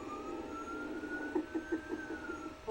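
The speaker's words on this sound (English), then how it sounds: "Police sirens and officers laughing" A police car siren wails faintly at a distance with a slowly rising tone, while a pulsing rhythmic sound beats underneath during the second half.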